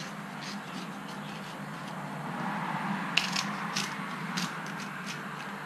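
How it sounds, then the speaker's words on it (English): A square of banana leaf, trimmed for Thai khao tom mad, cracks and splits as it is folded in half, giving quiet scattered crackles with a couple of sharper snaps. "don't use fresh banana leaves because it'll crack like this"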